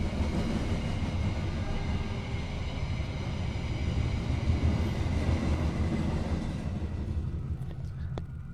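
A train rumbles past nearby with a continuous heavy roar of wheels on rails, holding steady before easing toward the end.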